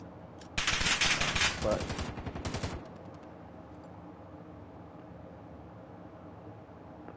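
Sustained automatic gunfire in Call of Duty Warzone on Rebirth Island, a loud close burst of about two seconds that stops abruptly and leaves quieter game background, with a brief voice in between.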